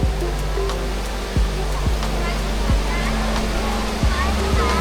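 The Jewel Changi Airport indoor waterfall gives off a steady, broad rushing roar that fills the space evenly, with occasional thumps and faint background sounds over the continuous wash of falling water.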